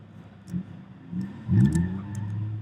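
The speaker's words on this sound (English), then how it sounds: "Gill driving a Civic, Dongog in the Impreza." A Honda Civic running an autocross course at a ProSolo event, its engine note rising and surging over a steady low rumble, loudest midway as it passes nearby.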